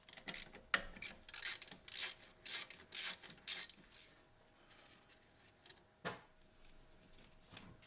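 Ratchet working loose a bracket on a 1985-1996 Ford Bronco engine, a rapid series of sharp clicking bursts close up and loud, then a few sparser clicks, with no talking.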